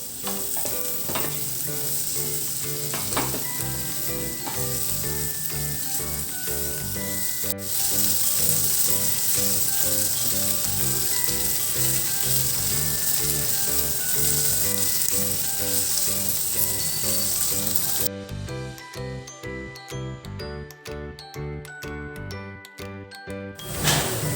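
Potato pieces sauté in a pan for batata poha, a loud, continuous sizzle with stirring strokes, accompanied throughout by sustained tinkling tones.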